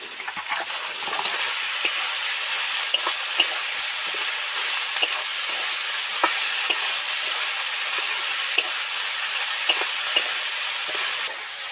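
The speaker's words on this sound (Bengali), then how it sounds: "একটু বেশি তেল দিয়ে ভেজে নেব সবজিগুলো ভালো করে একদম ডিপ ফ্রাই করে" Steady bright sizzle of fig and potato deep frying in hot oil, with occasional soft stirring clicks throughout; no voices.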